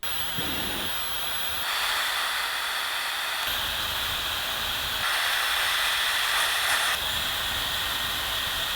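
A Dyson Supersonic Travel hair dryer runs with a steady, loud airy hiss and whoosh, stepping up in intensity partway through as the setting changes, heard close and alone.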